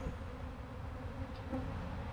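Honey bees at an urban backyard beehive hum in a steady, faint, continuous buzz, with no voices over it.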